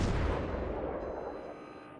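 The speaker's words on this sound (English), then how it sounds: "I'll keep pummeling him with HE" In World of Warships, the Yorck cruiser's guns fire a salvo of HE shells, one heavy booming blast that rolls out and fades over two seconds.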